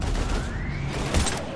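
Loud gunfire and explosions from the Mass Effect 3 battle fill a dense, continuous wall of combat noise, with bursts of shots and booms close by.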